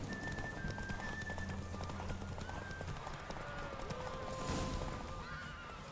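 Roach, a horse in The Witcher 3 video game, gallops with rhythmic clip-clop hoofbeats and a neigh, heard at close range under a busy game soundscape with occasional short tonal effects.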